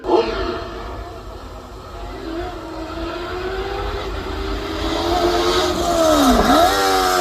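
Open top sports car at the Craigantlet hillclimb accelerates hard, its loud engine note rising and swelling as it draws closer, with a sharp pitch sweep near the end over a rough wind roar.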